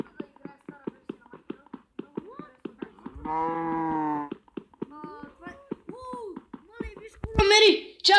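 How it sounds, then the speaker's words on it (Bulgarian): A cow mooing in a Minecraft-style survival video game: one long, loud, tonal moo in the middle, set among rhythmic tapping footsteps, with a voice speaking near the end. "Крава, така е."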